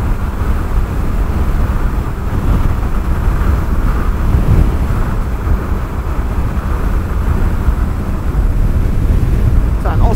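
Steady low rumble of a Honda Hornet CB600F motorcycle cruising at 70 mph in sixth gear at 6,000 RPM, with heavy wind buffeting and road roar filling the whole stretch, no pauses.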